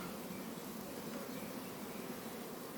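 Honey bees of a local spring breed buzz steadily at an open hive with young bees emerging, a dense, even drone at moderate level with no voices.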